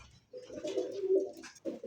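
Male Gorra pigeon with spider-patterned eyes, offered at a pigeon sale, gives low, throaty coos in a soft rolling run, close by, with no speech over it.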